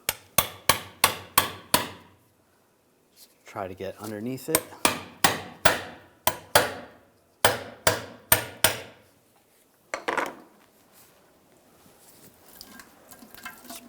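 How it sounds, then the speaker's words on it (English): A hammer strikes a pry bar while parking brake hardware is removed from a 2011-2018 Ram 1500: a fast run of six sharp metallic taps, a pause, then two more clusters of close, loud blows. A short spoken remark and faint rustling follow. "I'm just going to give it a tap with a hammer"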